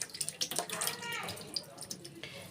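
Tap water runs over grapes being rinsed in a kitchen sink, a soft splashing wash with small drips and clinks, under intermittent quiet talking.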